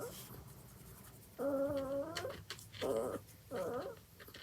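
A dog whimpers and whines indoors in several short, rising-and-falling cries separated by quiet gaps, fairly close but soft.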